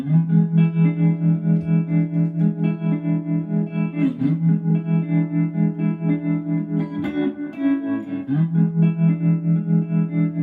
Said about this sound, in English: First we have your standard kind of tube vibrato.